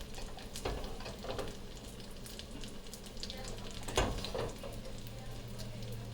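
Chicken parm pieces pan-frying in butter until golden brown, giving a steady, moderate sizzle with occasional louder crackles and stirring clatter, close by and uninterrupted by speech.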